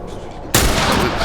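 A single loud rifle shot from The Last of Us cracks in sharply and then fills the rest of the moment with a sustained, roaring broadband echo.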